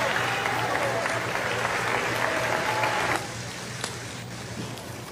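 Applause in an assembly hall full of guests as the president enters, steady broad clapping that drops off sharply partway through, leaving faint crowd murmur and a low hum.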